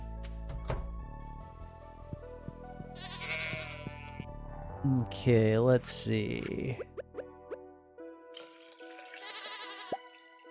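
Goats bleat in the Stardew Valley farming game, a couple of wavering cartoonish bleats in the middle among plinky game sound effects and chimes, with a voice briefly speaking at the start.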